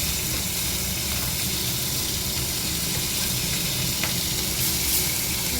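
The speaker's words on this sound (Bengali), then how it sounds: "চারটে মাছ বাবার জন্য ভেজে নেবো" Fish frying in a pan at home, a steady broadband sizzle with low crackling that holds evenly throughout, close and fairly loud, with no talk.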